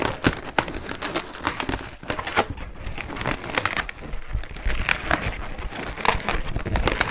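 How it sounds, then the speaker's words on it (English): A latex modelling balloon being twisted into a bubble, close-up rubbery squeaks, crinkles and rubbing that come in quick irregular bursts throughout. "we're going to make one more big bubble to go back up to that first pinch twist."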